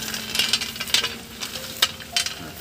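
Peanuts dry-roasting in a pan give faint scraping and rattling as they are stirred, with soft crackles and occasional sharper ticks, at low volume.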